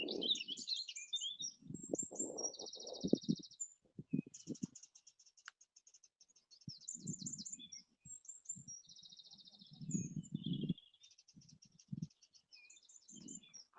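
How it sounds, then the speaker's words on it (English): Birds sing and chirp in the Irish hills, with high bright trills and tweets running steadily through the clip over intermittent low rustling and handling noise, and faint insect-like buzzing at moments. "all the birds singing away there"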